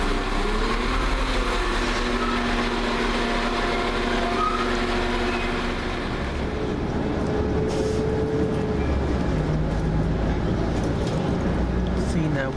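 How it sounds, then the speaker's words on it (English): London Midland class 172 unit 172218 passes on a service between Whitlock's End and Kidderminster, with a steady loud rumble and engine drone throughout and voices talking over it. "172218 with a 12:22 London Midlands service from Whitlock's End to Kidderminster"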